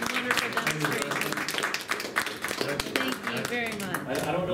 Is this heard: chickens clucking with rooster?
no